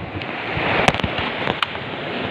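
Rough, broadband roar of strong ocean surf and wind at a beach, steady and loud, with a few sharp splashing cracks breaking through.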